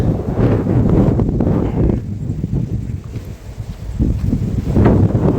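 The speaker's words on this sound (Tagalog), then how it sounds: "At lumalakas lalo yung hangin." Strong wind roars and buffets the microphone in heavy low gusts, easing briefly in the middle before surging again.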